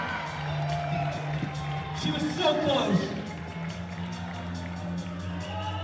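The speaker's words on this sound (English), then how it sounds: "The crowd's starting to get behind Alex Puccio" A climbing competition crowd cheering for Alex Puccio at the ABS 15 National Championships open finals in Colorado Springs, a swell of cheers and claps rising briefly under a commentator's voice.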